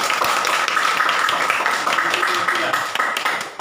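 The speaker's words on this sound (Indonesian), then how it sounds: "kita berikan tepuk tangan dulu untuk kelompok ini" Classroom students clapping for a discussion group, a dense near patter of hands with some sharper individual claps, loud and continuous, with voices faintly mixed in.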